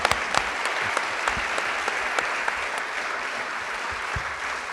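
Sustained audience applause fills the room at a steady level, dense clapping with a few sharper individual claps standing out near the start, no voices over it.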